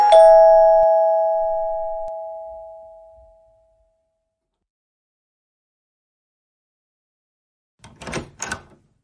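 A doorbell at a house in an animated scene rings once with a loud chime that decays over several seconds, followed after a silence by two short clattery knocks or thumps.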